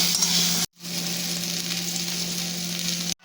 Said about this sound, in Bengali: এবার খানিকক্ষণ ভাজা করে তারপরে আমি এতে সামান্য মতন জল দিয়ে দেবো।